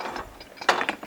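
A fence post puller ratchets in a short series of quick mechanical clicks, close and distinct, with a louder burst of pawl clicks midway.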